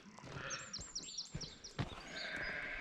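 On a farm with wheat fields, sheep bleat in a series of wavering cries at moderate distance, set against a steady outdoor background with some low thumps.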